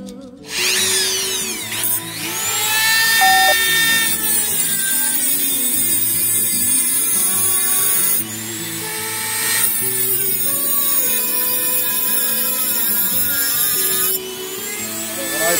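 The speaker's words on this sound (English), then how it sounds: "We take our Dremel tool." A Dremel rotary tool whines at high pitch as it cuts into a Wurlitzer 5200 series wallbox jukebox lock clamped in a vise, running in a few long passes with brief pauses and pitch shifts under load.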